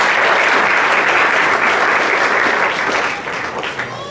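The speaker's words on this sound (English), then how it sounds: "Round of applause for education and graduation." Students applaud a speaker at a leadership foundation talk with loud, dense, sustained clapping that gradually thins and fades over the last second.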